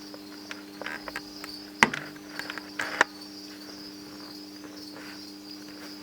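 Crickets in a breeding box give a steady high-pitched chirping trill, continuous and fairly faint, with a few close knocks and rustles breaking in.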